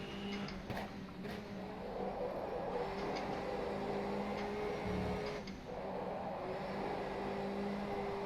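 Subaru Levorg touring car from the GPVWC International Touring Car Series in rFactor 2, lapping Autopolis: a steady, close engine drone with rising and falling tones as it accelerates, a brief dip midway, no talk.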